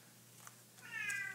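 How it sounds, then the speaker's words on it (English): A house cat gives a single short meow near the end, faint and somewhat distant, over a quiet kitchen background. "that was my cat."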